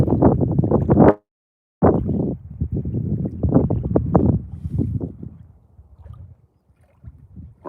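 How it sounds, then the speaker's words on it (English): Wind blowing hard across the surface of a lake, buffeting the microphone in loud gusty rumbles with a brief dropout, then easing into fainter, intermittent buffets. "The wind's coming around this corner pretty good."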